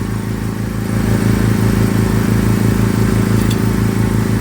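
A Land Rover Discovery Sport engine with a blocked diesel particulate filter idles steadily close by, a low rhythmic rumble that grows slightly louder after the first second and holds constant.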